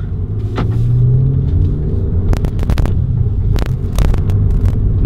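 A Volkswagen MK7 GTI with a Stage 2 tune and Circuit Works downpipe pulls away, its engine a loud steady low rumble that climbs slightly in pitch, with a few sharp clicks over the drone.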